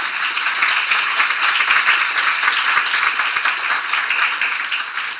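Audience at a European regional government meeting clapping in a dense, even burst of applause that holds loud and steady throughout, tapering slightly at the end.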